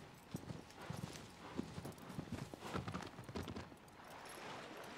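A horse's hooves clip-clop in Shadow of the Colossus in an uneven, continuous trot, with faint thuds over a quiet ambient bed and no talking.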